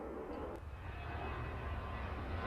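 Steady aircraft engine drone from planes at an airport in the game Airport Madness, a continuous low rumble with no breaks.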